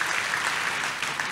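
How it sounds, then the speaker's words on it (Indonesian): Church congregation clapping in praise, a short burst of steady, dense applause that holds even throughout at moderate loudness. "Kasih tepuk tangan untuk Tuhan Yesus"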